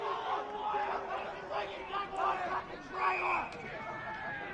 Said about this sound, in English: The crowd are not happy.